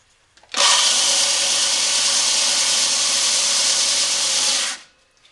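A belt grinder sands wooden knife handle scales for a full tang knife, starting abruptly and holding a loud, steady abrasive whir for about four seconds before stopping, with no talking.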